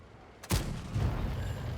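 A single tank gun snapshot fired in World of Tanks, a Stridsyxa tier 8 medium, booming loudly after a quiet moment and followed by a low rumbling tail.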